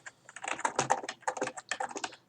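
Rapid keystrokes on a computer keyboard while typing code for a Unity screenshot tool, a close, busy run of clicking taps in uneven bursts with brief pauses, no talk.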